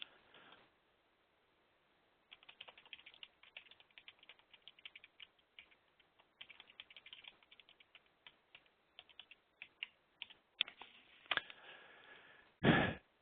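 A bank routing number is entered on a computer keyboard with bursts of quick, light key clicks in uneven runs, separated by pauses and ending in a louder clatter, close by with no speech.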